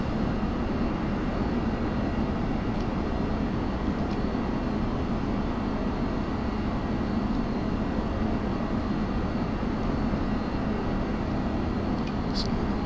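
A jet's engine in the FSX flight simulator keeps up a steady, loud roar and hum after the throttle is pulled back to idle, with a faint voice beneath it.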